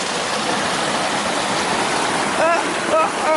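A small waterfall on a stream crossing along the Pacific Crest Trail in Oregon pours in a steady, close broadband rush. A voice briefly speaks over it near the end.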